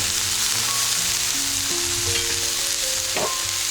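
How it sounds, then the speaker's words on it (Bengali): Mushrooms sizzle steadily in a hot pan with a constant, fairly loud frying hiss throughout, while occasional stirring scrapes come through. Nobody speaks. "এটাকে আমরা ভালো করে এবার ভেজে নিব।"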